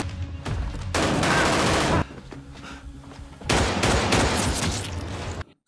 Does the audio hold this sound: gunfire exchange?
yes